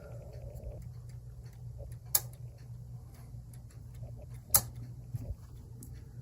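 Soft mechanical clicks come from inside a mantel clock as its minute hand is turned by hand past the half hour, a few faint ticks with a couple of sharper clicks, close-up in a quiet room.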